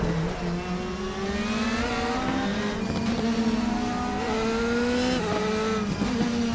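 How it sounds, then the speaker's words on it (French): DTM race car engine in the Raceroom racing game, a steady loud high-revving drone with rising gear pulls and brief shift dips throughout, alone without talk. "Il faut quand même un joli bruit ces DTM."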